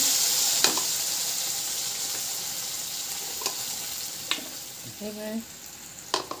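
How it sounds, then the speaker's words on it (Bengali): Mustard paste and black cumin seeds sizzle in hot oil in a pan, giving a bright continuous hiss that slowly fades, broken by a few light clicks and clatters of utensils nearby. "একটু কালো জিরে ফোড়ন দিলাম। আমি এর মধ্যে সর্ষে বাটা দিয়ে দিলাম।"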